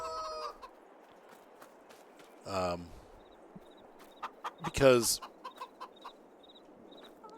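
Clucking chickens in a Farming Simulator game pen, a few short clucks and crowing-like calls spaced through a quiet ambient background, with a brief spoken word near the end.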